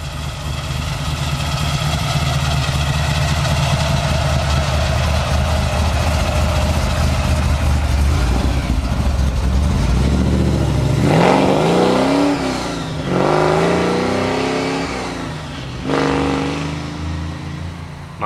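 A car idles with a steady low rumble, then revs and pulls away, the engine note rising and swelling through a couple of gear changes before fading as it drives off.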